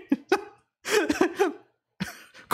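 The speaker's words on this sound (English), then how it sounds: "Coughing! Coughing!" Several sharp coughs from one person, close and fairly loud, come in short bursts with brief pauses between them, with no other sound around them.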